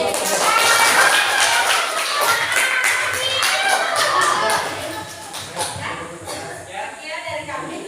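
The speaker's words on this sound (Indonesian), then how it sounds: "Oke, berikan tepuk dulu." A class claps together in a room, with a brisk patter of many hands that thins out after a few seconds while voices talk over it.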